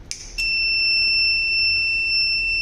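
A fire alert buzzer on a pneumatic door system sounds a steady, piercing electronic tone that starts right after a brief click and holds unbroken over a low background hum.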